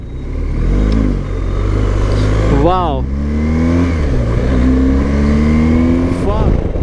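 A BMW GS 1250 R motorcycle being ridden and accelerated, its engine droning loudly throughout with a rising rev sweep near the middle and another toward the end, while a rider speaks briefly over the engine.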